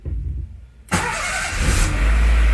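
A Renault Clio's engine catches while being push-started, a sharp burst after a quiet moment that settles into a loud, rough idle and then rises as it revs, heard up close.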